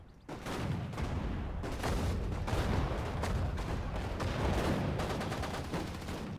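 Heavy crossfire in Sudden Strike 4, a World War battle at Ypres: dense overlapping rifle and machine-gun bursts with booming shots, loud and continuous with no pauses.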